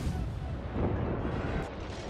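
Naval gunfire in World of Warships, a destroyer shooting at an enemy ship's superstructure: a dense, rumbling boom and roll of heavy shots that fills the short stretch, with no voices.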